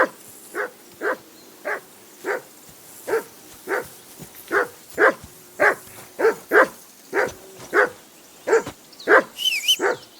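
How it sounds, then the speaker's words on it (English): Dog in Kingdom Come: Deliverance II barks steadily and repeatedly, about twenty close, loud woofs in an even rhythm that turn quicker and yappier toward the end, with a faint whine mixed in. "Henry, call that dog to heel."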